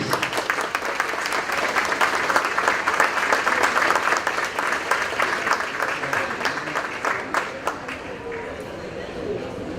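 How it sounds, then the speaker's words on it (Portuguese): Sustained applause from a crowd at a university panel on pension reform, dense steady clapping that tapers off slightly toward the end. "com o aplauso de vocês"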